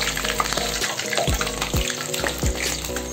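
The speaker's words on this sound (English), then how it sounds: "So we have the vadas in the pan." Daal vadas fry in a pan of hot oil with a steady sizzle and bubbling, broken by a few sharp low thumps, close and fairly loud.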